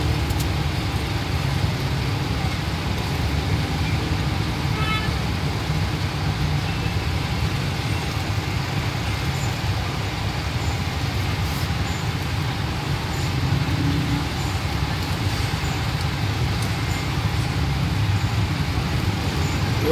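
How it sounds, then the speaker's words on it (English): Heavy road traffic in Manila heard from inside a stalled jeepney, a steady low rumble of idling engines and vehicles that continues without letup and without talk. "Lots of traffic, that's why we're stuck."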